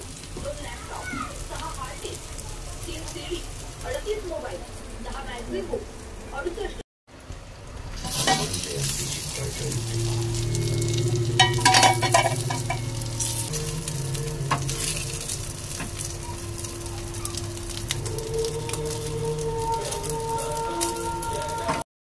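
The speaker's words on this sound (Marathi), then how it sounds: "इथे माझी मच्छी पूर्ण झाली आहे फ्राय" Fish frying in a pan, heard as a steady sizzle and spatter with some stirring after a short break, while someone talks over parts of it.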